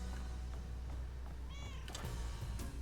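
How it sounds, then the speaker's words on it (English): A cat meows in the video game South of Midnight, a short mid-distance cry partway through, heard over a steady low ambient game soundscape. "I heard a cat out there."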